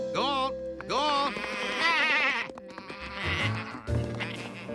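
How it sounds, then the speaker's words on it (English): Sheep bleat several times, wavering cries close by, overlapping one another with a steady background murmur. "George, could you get those sheep away from the tuba?"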